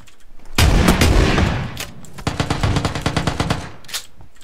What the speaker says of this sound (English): Somebody shooting, somebody else shooting him.